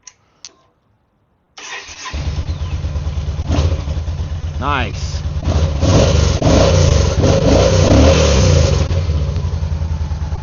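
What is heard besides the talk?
motorcycle engine starting and revving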